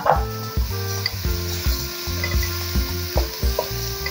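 White rice sautéing in a pan for Goiás-style arroz de putarrica, with steady sizzling and repeated stirring scrapes throughout, close and moderately loud.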